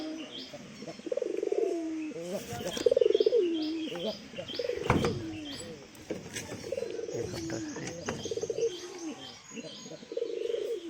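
Pigeons coo repeatedly in soft, rolling phrases around a pigeon coop, with small birds chirping over a constant background hum.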